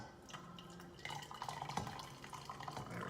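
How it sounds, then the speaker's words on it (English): Hot water is poured from a kettle into a cup of coffee, a soft, close trickling and splashing that swells as the stream strengthens, quiet and steady without voices. "I'm just gonna add a little more hot water on top of it"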